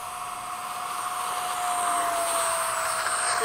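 A Freewing 70mm F-35 RC jet flies in formation at a flying event, its electric ducted fan giving a steady whooshing whine with a sharp high tone, growing slightly louder as it passes.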